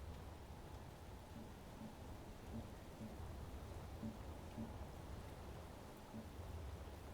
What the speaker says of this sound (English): this rain is making it hard to talk and focus